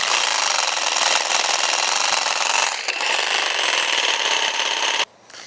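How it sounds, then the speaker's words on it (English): A reciprocating saw fitted with a Mix Quick paint-mixing attachment runs loud and steady, a dense harsh mechanical buzz that cuts off abruptly near the end, leaving a faint lower hum. "This attachment to my reciprocating saw is made by Quick Mix, or excuse me, Mix Quick."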